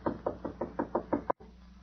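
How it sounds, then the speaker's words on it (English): Six evenly spaced knocks on a door, a radio drama sound effect from a 1941 broadcast, firm and steady in rhythm, then a brief cut to quiet room tone. "Knock on the door."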